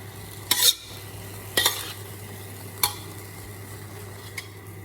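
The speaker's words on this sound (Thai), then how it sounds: "พอผักหวานยุบตัวแล้วเราก็จะใส่น้ำมันหอยลงไปค่ะ ก็จะผัดนะคะ" Sweet leaves stir-fried with oyster sauce: a low continuous sizzle and hum, broken by three sharp spatula scrapes and clanks against the pan at irregular intervals, then a fainter final tap.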